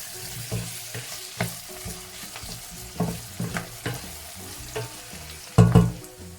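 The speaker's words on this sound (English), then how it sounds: "just browning them. We have to keep stirring in so that they can be able to cook evenly." Beef browns in a pot for pilau, sizzling steadily while a spoon scrapes and stirs it in repeated clacks, with one louder clatter near the end.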